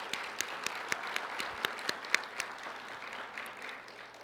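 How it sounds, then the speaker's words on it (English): Audience applause for a program leader at a university scholarship and teaching event, a steady wash of many hands clapping at moderate distance with a few sharper claps standing out, holding throughout with no talk. "Give her a round of applause."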